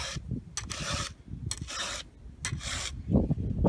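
A hand file rasps across a chainsaw tooth in three distinct strokes, each about half a second of gritty scraping. Quieter clicks and handling noises fill the gaps between strokes.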